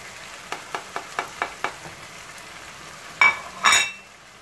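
Chicken meat being stirred with spices in a pan, a soft sizzle under a quick series of light spoon taps against the pan, then two louder scraping clinks near the end.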